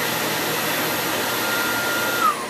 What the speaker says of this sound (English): The machine, the digital motor does have a really cool sound.